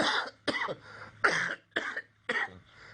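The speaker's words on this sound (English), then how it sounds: "Yeah, that's the cough." Five harsh, wet coughs in a row, close and loud, each burst separated by a short pause.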